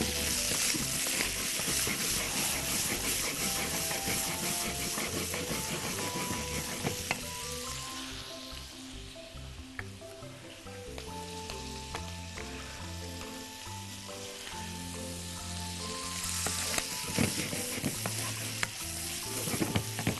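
Chicken liver frying in butter and oil in a pan, a loud close sizzle that eases in the middle and then rises again, with light clinks and scrapes of stirring and no talk.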